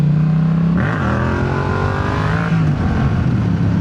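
A Yamaha MT-07 motorcycle pulls away in second gear after a light clutch slip, its engine note rising in pitch in a steady, close, loud climb with a shift partway through, no talk over it.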